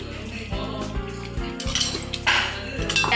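Paneer goes into a pan of boiling butter masala with a run of close metallic clinks and scrapes of a utensil against the cookware, uneven and busy, no talking.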